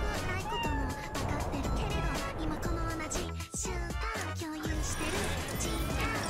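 A cat in a video game meows repeatedly over a dense, continuous bed of game music and sound effects. The meows are only moderately clear against the busy mix.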